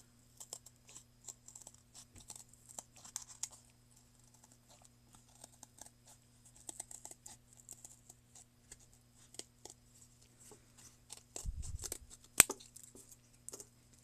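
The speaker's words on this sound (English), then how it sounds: "Grab some cardboard, draw an eyeball shape, not an eyeball shape, the shape of an eye, and then cut it out." Scissors snip through a piece of cardboard to cut out an eye-shaped tatting shuttle, producing quiet, scattered crunching cuts with a slightly heavier burst near the end.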